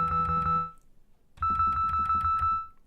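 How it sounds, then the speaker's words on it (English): A bright synthesizer tone from an OB-6, only its second oscillator sounding, pulses in a quick repeating pattern of short notes, pausing briefly before resuming at a higher pitch. "You're hearing just VCO2."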